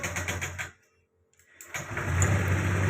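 Honda Vario 125 scooter with a hard-starting fault, its engine running, cutting out briefly, then caught by the electric starter and settling into a steady idle, close and moderately loud.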